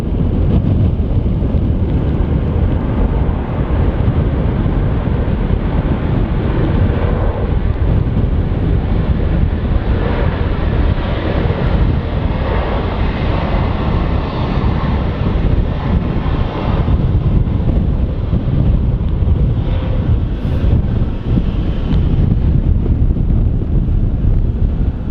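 Steady broadband roar of a Ryanair airliner on final approach in a gusty crosswind at Manchester Airport, heard continuously from a distance and mixed with heavy wind buffeting on the microphone, no talk.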